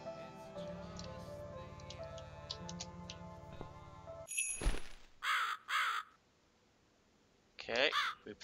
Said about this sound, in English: That stupid crow from earlier wouldn't shut up.